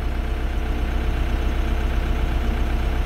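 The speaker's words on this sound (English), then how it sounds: "Runs quiet, you know, for a tractor." A TYM T654 tractor, a 62 PTO horsepower machine, runs steadily at idle with a low, even engine drone. It sounds close and continuous with no talking over it.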